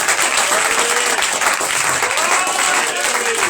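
A church congregation claps and cheers continuously at a worship service, a dense steady wash of applause with voices mixed through it.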